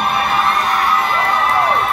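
Concert crowd at a live show at Stereo Garden in Patchogue, New York, screaming and cheering loudly and continuously, with high shrieks and whoops filling the room throughout.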